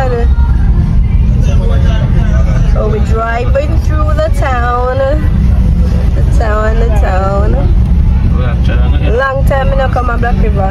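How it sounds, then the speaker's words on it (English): A bus rumbles loudly along a road through a town in Jamaica, with a constant low engine and road drone filling the cabin while several passengers talk over it. "We're in a bus"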